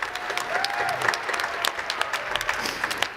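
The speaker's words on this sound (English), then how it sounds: "let's give the middle schools another big round of applause" Audience applause at a middle school jazz concert, a steady dense wash of clapping from a seated crowd lasting the whole stretch, with faint voices and a brief tonal whistle-like sound mixed in early on.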